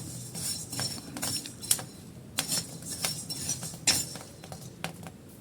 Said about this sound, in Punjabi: ਦਾਣੇ ਹਲਕੇ ਬ੍ਰਾਊਨ ਹੋ ਗਏ ਆਪਾਂ ਇਹਨਾਂ ਨੂੰ ਕੱਢ ਕੇ ਲੱਗ ਬਰਤਨ 'ਚ ਪਾ ਲਿਆ